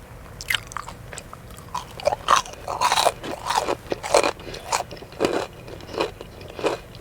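Loud, close crunching bites and chewing of crispy fried chicken tenders, a steady series of crackly chomps with no talking.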